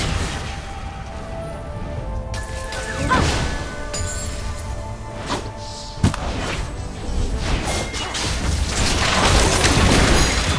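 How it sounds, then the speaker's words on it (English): A turret is destroyed in the Wild Rift mobile game, with game audio full of close crashes, booms and thwacks, one sharp impact standing out midway and a swelling rumble building toward the end. "Turret destroyed."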